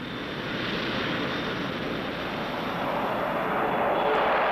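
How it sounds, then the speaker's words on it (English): A Boeing YB-52 jet bomber from 1952 roars steadily in flight, a broad, dense jet-engine rush that holds loud and constant and grows slightly toward the end. "the YB-52, Boeing's new big jet bomber,"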